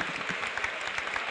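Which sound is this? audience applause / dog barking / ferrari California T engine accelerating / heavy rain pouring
audience applause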